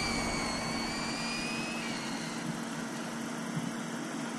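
A Team Associated DR10 RC drag car on a 2S battery makes a steady, high electric motor whine and broadband roar during an acceleration pull, sustained throughout with no talk.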